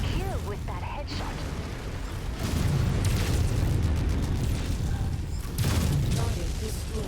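An enemy mech is destroyed in MechWarrior 5, with rumbling explosions and heavy blasts amid mechanical game noise, and loud bursts of destruction swelling in the middle and again near the end.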